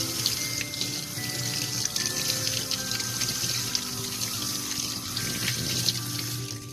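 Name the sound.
tap water running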